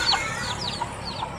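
A few soft chicken clucks and chirpy peeps sound nearby over a quiet background, brief and scattered.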